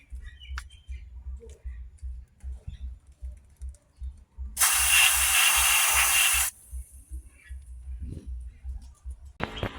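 Cleaning solvent is sprayed onto a Toyota 4A-FE transmission drain bolt in one steady hiss lasting about two seconds, close and loud, between quiet stretches of low rumble and small clicks.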